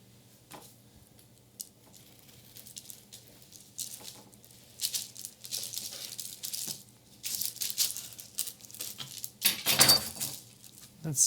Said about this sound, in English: So I'm going to slice this one in half.